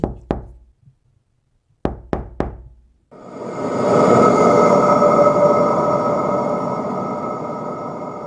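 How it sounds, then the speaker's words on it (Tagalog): Knocking on a glass pane at night: two quick raps, a pause, then three more in a tight burst, followed by a loud, sustained rumbling roar that fills the rest of the clip. "tuwing gabi, may katok pa rin akong naririnig sa salamin"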